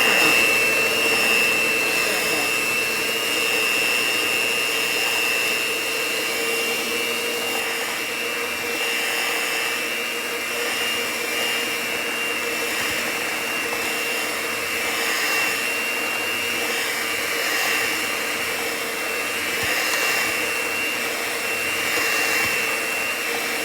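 An electric mixer beating plantain muffin batter, a continuous steady high-pitched motor whine with a constant hum, holding level throughout without pause.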